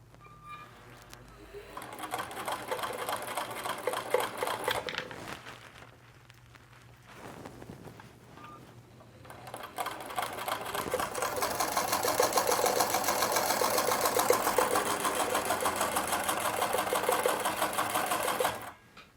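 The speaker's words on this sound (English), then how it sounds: "So now put your foot pedal on the floor, and we're going to press the foot pedal with your foot. The harder you press, the faster it's going to sew." A Singer Fashion Mate 239 sewing machine stitches fabric in fast, steady mechanical runs, pausing briefly and then resuming at a higher, sustained speed, with a close, clear whirring rattle and no talk over it.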